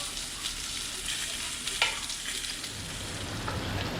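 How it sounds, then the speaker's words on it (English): Short ribs sear in a pan with a soft, steady sizzle, broken by scrapes and a few clinks as the pieces are turned, close but fairly quiet. "going to give all the short ribs a little bit of a flip here"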